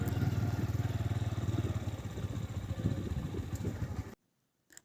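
A motorcycle engine idles with a rhythmic low putter, close by, then cuts off abruptly, leaving near silence.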